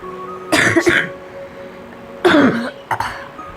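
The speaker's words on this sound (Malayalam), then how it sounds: "ചുമച്ചതാ." A person with a fever coughs up close and loud in three harsh bursts, two strong ones separated by a short pause and a smaller final one, with quiet in between.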